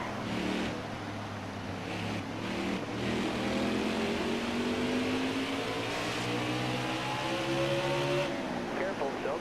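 Howling NASCAR stock car engines at Martinsville in the NASCAR Heat 4 video game, a continuous loud drone with rising pitch as the cars accelerate, under steady commentary-style talk.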